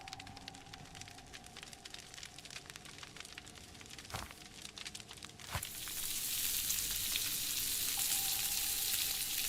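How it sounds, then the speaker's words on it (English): Fish sizzles and fries beside a campfire in the video game Monomyth, a soft, steady crackle that swells into a louder, fuller hiss about halfway through and holds to the end. "I'm gonna cook fish next to the fire."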